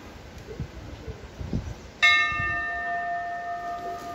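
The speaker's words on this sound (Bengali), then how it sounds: "এই ঘন্টার আওয়াজটা শুনলেই না কি ভালো লাগে না মনটা" A temple bell at the Sevokeshwari Kali temple is struck once after a quiet outdoor hush, then rings out with a long, bright, slowly fading tone.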